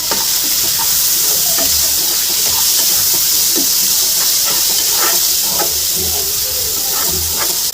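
Onion frying in a pan, a steady loud sizzle and hiss with occasional small pops and crackles, continuous throughout with no voices.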